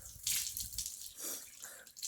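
Water flows at a spring spot on a hillside during a climb, heard as a faint, close splashing and trickling stream with uneven bursts.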